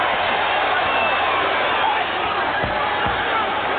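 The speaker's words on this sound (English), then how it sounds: "This crowd in a frenzy, most of them standing." A boxing arena crowd roars steadily in a frenzy, most fans on their feet, a dense continuous wall of cheering and shouting with a few heavier thumps near the end.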